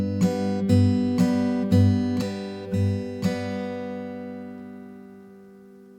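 An acoustic guitar plays the pinch and down strum pattern: six crisp plucked attacks in an even rhythm, close and clear, with the final chord ringing out and fading alone.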